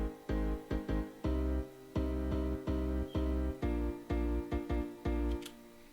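Chopped piano chords over a deep new bass line in a melodic track, sounding as a run of short, clipped chord stabs in an uneven, syncopated rhythm, loud and close with no talking.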